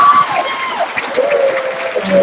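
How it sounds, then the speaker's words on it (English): An audience claps warmly at a 2012 school winter concert, dense steady applause filling the room for a couple of seconds, with a few tones ringing faintly above it. "give her a round of applause"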